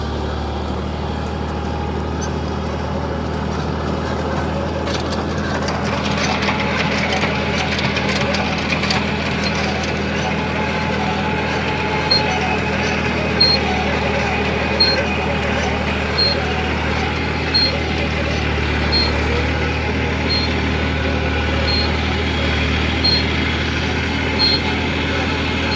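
A Massey 9500 Smart Series tractor engine runs continuously pulling a super seeder, with a steady low drone and clattering machinery, joined by faint rhythmic ticking; no notable change in pitch throughout.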